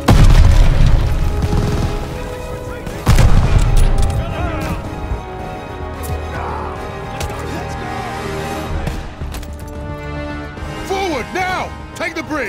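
Loud booms and bursts of gunfire in Call of Duty: Vanguard combat, heavy explosive hits at the start and again around three seconds, then scattered shots and battlefield sounds beneath shouted voices and music.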